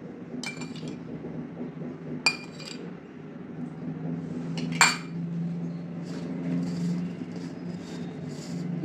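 A spoon clinks against a bowl while flour, turmeric, chili, carom, coriander-cumin powder, salt and oil are mixed for dhokli, with a few sharp clinks over soft scraping.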